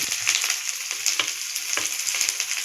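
Ginger, garlic and onion sizzle steadily in a hot pan with oil, a loud continuous frying hiss broken by a few sharper crackles and stirring clicks, and no talking.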